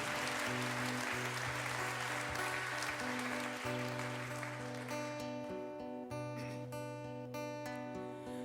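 Audience applause welcomes the host Richie back on stage at a live Christmas Sessions concert in Biel, steady broadband clapping filling the room over sustained musical tones that continue beneath it.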